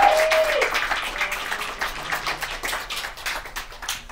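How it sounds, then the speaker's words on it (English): A room of people at an open meeting breaks into applause, a continuous patter of many hands at moderate distance that gradually softens, with a brief tone at the start. "They're the ones that deserve the biggest round of applause right now."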